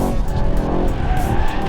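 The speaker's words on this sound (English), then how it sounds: "I think, safe to say, quite a big drift." A Mercedes-AMG E63 S 4Matic+ in rear-wheel-drive drift mode slides in third gear, loud continuous tire squeal over a roaring engine, close and sustained throughout.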